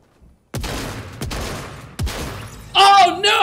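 Shotgun blasts in a Fortnite fight: three sharp, loud booms spaced about seven tenths of a second apart, followed by a brief burst of in-game chatter or effects.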